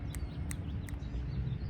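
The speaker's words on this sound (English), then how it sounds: "Hear that little clicking? That's a raven." A raven gives a few short clicking calls, three sharp evenly spaced knocks over a low rumble of traffic in a seaside residential neighborhood.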